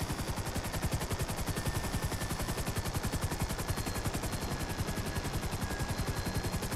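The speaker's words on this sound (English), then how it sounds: "Oh, this chopper's gonna go down." A helicopter under fire goes down in GTA V. A fast, even rotor thump runs throughout with rapid, continuous gunfire, loud and dense from start to finish, with no voices.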